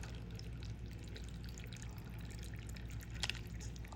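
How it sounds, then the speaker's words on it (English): Water is poured steadily to fill a hydroponic growing container, a continuous soft trickling wash with occasional drips, heard close and alone. "I'm gonna take some water and just fill it up to the top."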